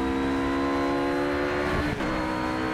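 A RUF RGT-8 GT3 racing car engine in Project Cars on the Nürburgring Nordschleife holds a loud, steady high-pitched drone, then dips briefly near the end as if shifting gear before resuming.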